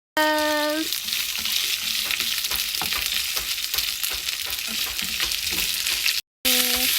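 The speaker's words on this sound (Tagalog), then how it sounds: "Magigisa. Ayan, ang ating inuuna ngayon is bawang." Garlic sautéing in a hot pan for Filipino palabok, a steady loud sizzle and crackle with occasional stirring scrapes, briefly cut by a short silence near the end, with a brief tonal beep at the start and end.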